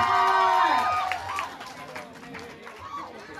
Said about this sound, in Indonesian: Tepuk tangan buat Mas Pram.